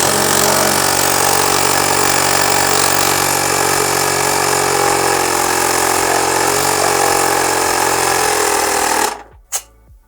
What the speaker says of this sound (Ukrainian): Компресор працює доволі таки негучно і в той же час видає хороший потік повітря.